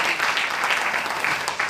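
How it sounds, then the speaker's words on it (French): An audience at an evening awards ceremony claps briefly, a dense, steady wash of applause lasting under two seconds. "on peut l'applaudir."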